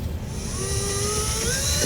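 A power drill with a 17/32 bit bores a hitch mounting hole in a 2015 Subaru Legacy, giving a steady high-pitched whine that rises in pitch as it cuts, with no talk.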